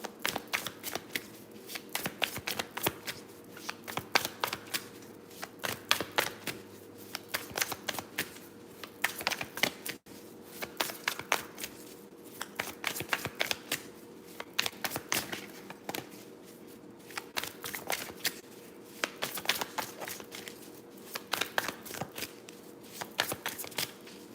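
Tarot cards being shuffled by hand in a quiet room: steady runs of crisp riffling and flicking that keep repeating, close and fairly soft, with no talk.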